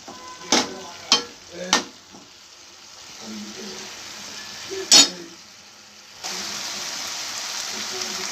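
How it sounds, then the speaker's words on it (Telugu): Kurma masala with peas and potatoes is stirred in a pan, with a few sharp spoon scrapes and knocks over a soft, steady sizzle of frying that grows louder toward the end. "ఇది బాగా కలుపుకోవాలన్నమాట"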